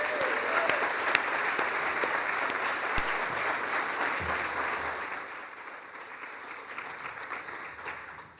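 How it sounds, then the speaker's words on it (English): An audience at a civic theatre season launch gives a steady round of applause for the venue's team, a continuous wash of clapping that gradually softens toward the end. "Can we give them a round of applause, please?"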